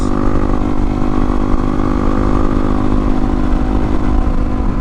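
A low-power, small-displacement street motorcycle cruises along winding country roads, its engine a continuous close, loud drone with steady rumble and no pauses.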